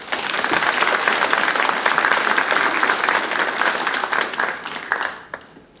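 An audience at a Korean policy forum on fishing-boat safety gives a long burst of dense applause that fills the hall, then fades toward the end.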